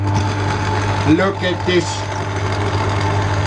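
A stand mixer churns cookie dough for Christmas Linzer cookies with a dough hook, giving a steady, loud motor hum with a low whine throughout, while a person speaks briefly over it.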